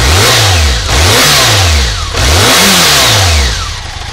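A BMW K100 RS 1000 cc motorcycle engine revving loudly in repeated bursts during an engine check, rising and falling about four times, close up with no talking.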